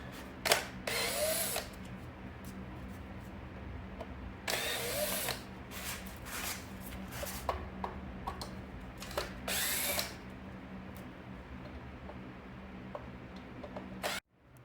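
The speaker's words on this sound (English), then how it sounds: "I'm going to go ahead and remove these 4 Phillips head screws" Power tool backing out four Phillips head screws from a floor jack, several short whirring bursts separated by pauses over a low steady hum, close by and without talk.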